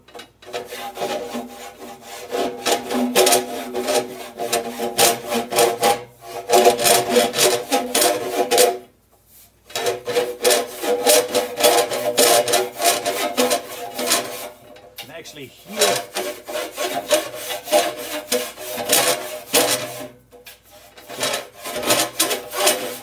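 A long-handled rasp scrapes solder drips from inside a metal organ pipe in repeated rhythmic back-and-forth strokes, close and fairly loud, broken by a few short pauses.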